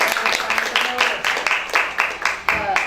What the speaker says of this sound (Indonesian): Tepuk tangan dulu dong buat Ibu.